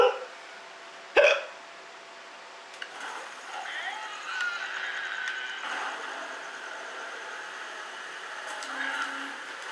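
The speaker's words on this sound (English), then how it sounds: "I am really having a hiccup." One sharp, abrupt hiccup stands out near the start, followed by quieter, continuous game-like background sounds with faint chimes and hums.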